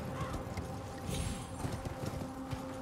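Horse hooves gallop in the video game Elden Ring, a quiet, rapid clip-clop rhythm mixed with faint ambient game noise, distant and low in level.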